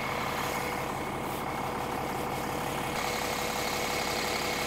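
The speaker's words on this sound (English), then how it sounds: "Listen to this ISL 400. No exhaust manifold sound or leak sound, anything like that. Listen to that engine." A Cummins ISL 400 diesel engine idles in a 2002 American Eagle 40V motorhome, a steady low rumble with an even throb, loud and close, running alone without talk.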